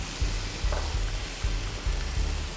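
Tomato puree sizzles in a pan over lightly browned onions, a steady fry with soft repeated stirring scrapes, moderately close and without voices.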